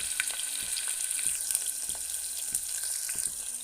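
Onions sizzling in hot oil inside a pressure cooker for veg biryani, a dense steady crackle with scattered sharp pops and faint scraping, close and fairly loud.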